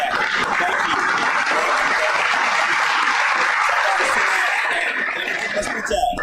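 Sustained applause from a club crowd at Magic City during a live radiocast, a dense steady wash of clapping that holds level and close throughout, with voices and a few chuckles mixed underneath.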